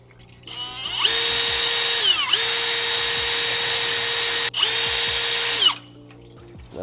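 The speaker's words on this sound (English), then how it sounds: "So we get to ream this." Power tool reaming the worn bore of a 48RE transmission valve body, a loud steady whine with two brief dips in pitch that runs almost continuously, then stops near the end.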